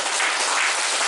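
Children applauding together in a classroom-style session, a short dense burst of clapping that fills the moment at moderate volume, with no talk over it.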